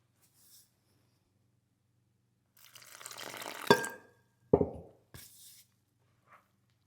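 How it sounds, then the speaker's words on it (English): Water pours briefly into a bowl of biscuit dough, a short soft splash followed by a couple of wet drips and sloshes in an otherwise quiet kitchen. "Adding in water as we need."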